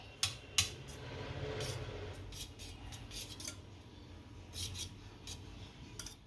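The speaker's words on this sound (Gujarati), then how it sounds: "હવે દહીંમાં મીઠું ભેળવી દેશું." A spoon stirs salt into plain yogurt in a metal bowl, with a couple of sharp clinks at the start and then soft, repeated scraping and tapping against the bowl.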